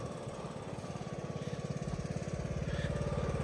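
A riding lawn mower engine runs steadily and loudly up close, its rapid chugging pulse constant and slightly strengthening toward the end, with no talking over it.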